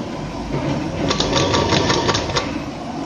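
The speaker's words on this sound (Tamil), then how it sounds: "இந்த ஓரத்தில் சும்மா ஒரு ஓரலாக ஒரு தையல்" A sewing machine runs a steady seam along the edge of a blouse, its fast needle rattle continuous and close for a few seconds at a constant pace without pauses or talk.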